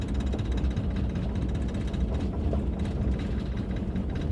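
Under the hood of a 1964 Chevrolet Impala wagon, the overheating, smoking, oil-leaking engine chugs with a dense, uneven mechanical clatter that stays steady and close.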